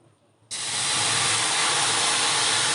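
Water poured into a hot pan for melting jaggery, bursting into a loud, sudden hiss of steam that holds steady and close after a quiet start.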